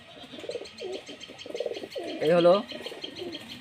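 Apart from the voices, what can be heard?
pigeons cooing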